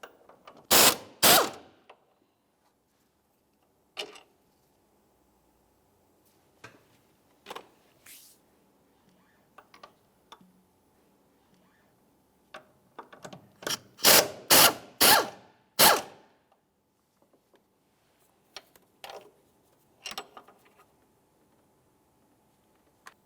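A hand ratchet backs out two 16mm bolts from the engine mount bracket of a 2011-2018 Volkswagen Jetta, loud clicking bursts in separate spells with short pauses between them, close up and with no voices.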